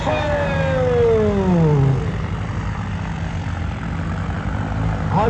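A loud engine drones steadily, and its pitch sweeps down sharply in the first two seconds before settling into a constant roar.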